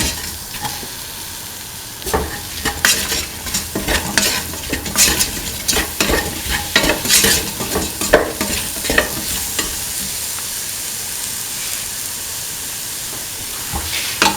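A spoon stirs salt into okra and a spice mixture frying in a pan, with irregular scraping strokes over a steady sizzle and hiss, close and fairly loud, the stirring easing off toward the end.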